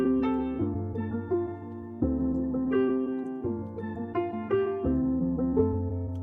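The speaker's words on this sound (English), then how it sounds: "Just a nice, calm little piano sample." Calm, pitched-down piano sample from Splice for a trap-style beat, playing soft sustained chords and a slow melodic line in steady phrases, close and clear with no voices.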